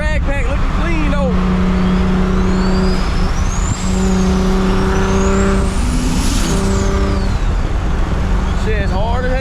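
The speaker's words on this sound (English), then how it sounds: "Single turbo E90 on the drag pack, looking clean though" A single-turbo BMW E90 335i on a drag pack, built to roughly 600 horsepower, drives by with a loud, steady exhaust drone that swells and sweeps up as the revs rise, with faint voices underneath.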